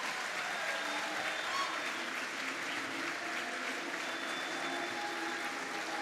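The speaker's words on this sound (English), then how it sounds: "Let's hear a round of applause for a patriot, a hero, and a proud American" Crowd applause for Dr. Peter Navarro at a Catholic prayer event for Trump at Mar-a-Lago, a sustained, even wash of clapping from a large audience with a few faint cheers.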